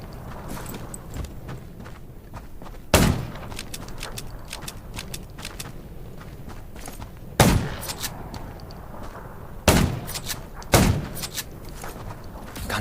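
Gunfire at zombies in the survival game Undawn: several sharp, loud shots stand out alone at wide intervals over a steady ambient game background, with no talk.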